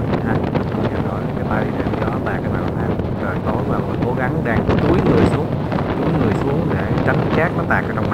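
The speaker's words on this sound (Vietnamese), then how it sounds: "gió nó tạt mình quá" Strong wind gusting in a white-sand desert sandstorm at dusk, a continuous roaring buffet across the microphone for the whole stretch, with a person speaking over it.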